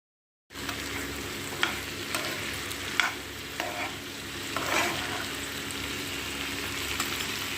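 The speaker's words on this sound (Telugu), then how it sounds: "వేసి బాగా కారం వేసి కలుపుకోవాలి" Chili powder is stirred into a sizzling curry in a pan, with a steady fry hiss under scraping spoon strokes and occasional knocks against the pan.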